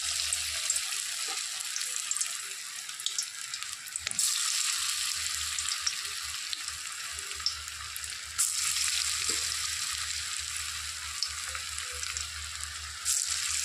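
Banana flower fritters sizzle steadily in hot white oil, a bright continuous crackle with brief swells and a few soft knocks as pieces are added, close up and without speech.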